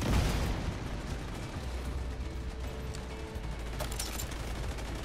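Rapid bursts of video game gunfire during a raid on the Iron Horse third boss, a dense, continuous fusillade with mechanical clatter and a heavy thump at the start.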